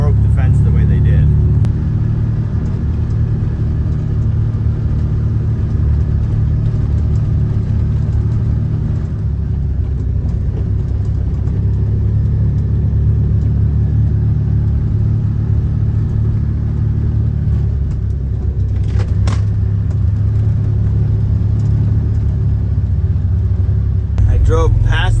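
A car rolls along a farm lane past a big barn, its engine a steady, loud low rumble from inside the cabin with road noise, while someone talks over it throughout.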